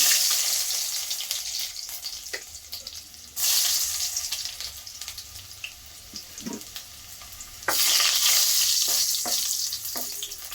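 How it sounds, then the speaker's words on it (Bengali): Chopped garlic sizzling as it drops into hot olive oil in a pan, bursts of loud crackling frying that swell and fade, with stirring and faint kitchen clatter between, no talking. "তেলটা গরম হয়ে গিয়েছে। এখন দিয়ে দিব রসুন কুচি"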